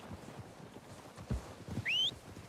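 Horses approaching in Red Dead Redemption 2 on Xbox One X, a soft, moderately distant clip-clop of hooves with a brief high whistle-like call near the end.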